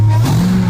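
Brief burst from an MPV running a swapped Hellcat engine: a loud, low idle rumble that jumps up as the throttle blips, close and unaccompanied.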